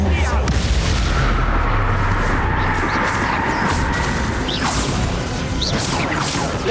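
Bombarda and Incendio spell blasts in Hogwarts Legacy rumble and crash in a dense, loud barrage, with whooshing sweeps cutting through the continuous booming.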